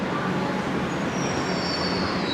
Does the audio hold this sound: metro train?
yes